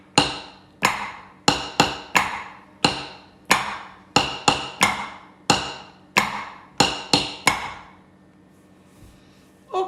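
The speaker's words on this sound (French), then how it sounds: "vous avez donc à la maison un nouvel instrument qui s'appelle un tambour confiture" A homemade jam jar drum struck in a quick, lively rhythm: about twenty sharp, ringing knocks, some in fast pairs and triplets, each decaying briefly, close and fairly loud before stopping.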